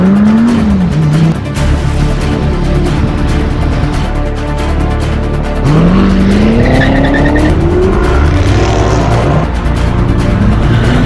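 A 2019 Corvette Grand Sport with a manual transmission accelerates hard through the gears, its loud close engine note rising, dropping at shifts and climbing again, with some tire noise.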